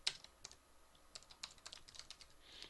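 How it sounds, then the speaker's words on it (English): Someone types on an unusual computer keyboard while coding, producing a quiet, uneven run of soft key clicks with small bursts and short gaps. "I was typing and I was looking at my keyboard because I got a weird keyboard right now"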